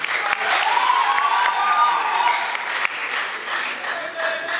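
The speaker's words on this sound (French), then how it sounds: "Et pendant ces temps, on applaudit," An audience claps for debate teams at the close of a student debate on climate change, a dense, fairly close round of applause that holds steady and then eases slightly toward the end.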